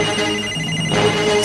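A telephone rings loudly and nearby in an electronic, warbling pattern, with no voices over it. It has been left ringing for a long while in a room during a scene from a movie about computer war games.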